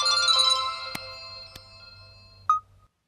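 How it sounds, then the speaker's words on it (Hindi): A mobile phone ringtone plays clearly as a bright electronic melody, then cuts off abruptly with a short beep before silence. "Sir phone."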